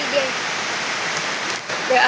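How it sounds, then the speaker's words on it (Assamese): Heavy rain falls in a dense, even hiss that stays steady and fairly loud throughout. "এয়া পূৰা বৰষুণ দি আছে"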